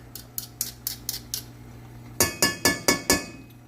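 A metal utensil scraping cooking ingredients off a surface while preparing smoked and roasted turkey legs, a run of quick, bright clinking scrapes, softer at first and then five louder, evenly spaced strokes close by.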